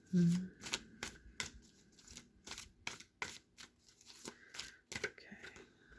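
Oracle cards are shuffled and drawn by hand, a run of quick, crisp riffles and flicks in an irregular rhythm, close and fairly soft, with a voice talking quietly at times.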